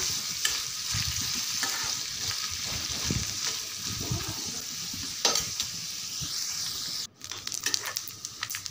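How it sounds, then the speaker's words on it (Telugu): Coconut pieces fry in ghee with a steady, dense sizzle and scattered stirring scrapes, close and continuous, briefly cut near the end before the sizzle resumes. "బాగా నేతిలో ఎర్రగా వేసుకోవాలి, బాగా వేగాలి ఇవి"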